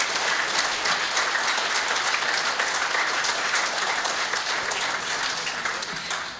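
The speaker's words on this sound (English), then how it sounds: "please give them a round of applause as they come up." Sustained audience applause fills a room at a regional sports awards night, a steady dense wash of many hands clapping that holds loud throughout and eases slightly at the end.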